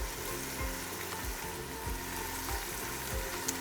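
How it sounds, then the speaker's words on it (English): Chicken breasts seasoned with salt and pepper sizzle and fry steadily in a pan, a continuous close crackle with a low rhythmic rumble and no voices. "Next, add your festive chicken breasts."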